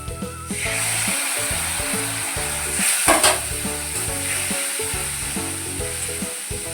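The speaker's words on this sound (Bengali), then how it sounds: "এবার আমি এটা খুব ভালো করে কষিয়ে নেব" Fish masala for a katla fish and cabbage curry sizzles loudly and steadily in a hot pan, with rhythmic stirring scrapes throughout and no voices.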